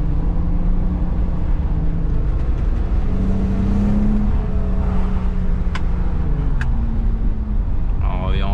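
A BMW 850i E31 in sport mode drives along, its engine a steady low drone with gentle rises in pitch under faint road noise, heard close from inside the car.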